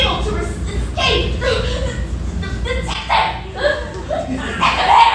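Dogs bark and yip repeatedly in a live stage play, the barks loud and close, interleaved with actors' voices and some light laughter for about five seconds.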